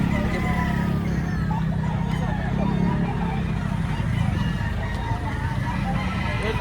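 Chickens at a busy Saturday market cluck and crow amid a dense, noisy din of vendors and crowd chatter, the birds close but partly buried in the bustle.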